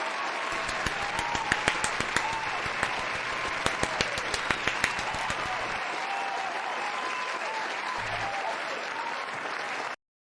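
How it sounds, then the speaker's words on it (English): Sustained audience applause fills the clip, dense clapping from a crowd that holds steady before tapering off at the very end. "a round of applause for our guest for this evening, Get Miked"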